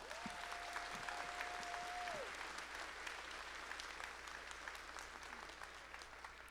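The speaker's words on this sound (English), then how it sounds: "A round of applause, please, for them." Audience at a college commencement ceremony breaks into sustained applause, a dense, steady patter of many hands clapping from across a large hall, with a brief whistle near the start.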